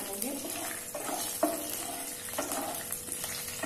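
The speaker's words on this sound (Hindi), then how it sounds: "लौंग, काली मिर्च, इलायची, दालचीनी का टुकड़ा, जो साबुत मिर्च ली थी मैंने वो, इसे हल्का सा फ्राई करेंगे।" Whole spices including bay leaf, cloves, black pepper, cardamom, a cinnamon piece and dried whole chillies frying lightly in oil, heard as a dense, even sizzle with a few soft stirring knocks.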